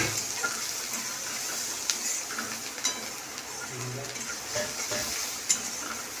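Onions with a little turmeric stirred in a frying pan, a soft steady sizzle with scraping strokes of the spoon and occasional clinks against the pan, fairly quiet and close throughout.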